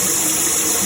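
Tap water gushing steadily into a really big sauce pot being filled for a water bath for canning dill pickles, a loud continuous close rush with no talk.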